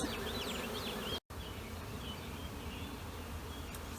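A swarm of honey bees buzzes continuously outdoors, a steady dense hum with a brief dropout partway through and faint birds in the background.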